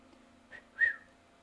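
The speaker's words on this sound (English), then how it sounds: "I just whistled." A person whistles two short notes at close range beside a stove while cooking mushroom soup and bacon, a faint quick note followed by a louder, longer one over low room hum.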